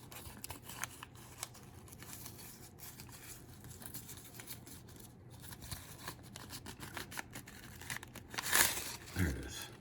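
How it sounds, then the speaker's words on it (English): Foil being pulled and crinkled out of a cigarette pack, faint quiet rustling throughout that swells into a louder crumpling burst near the end. "Let me get this foil out."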